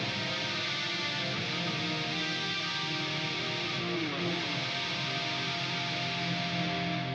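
Electric guitar played through a Fractal AX8 with dimension chorus and no drive pedal, gain at half, giving a lush, sustained, shimmering chordal wash that rings steadily for several seconds with no talking.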